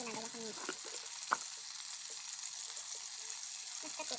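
Mung beans sauté in a pan for a Filipino monggo dish with pork, giving a soft, steady sizzle and occasional stirring scrapes. A voice talks quietly underneath.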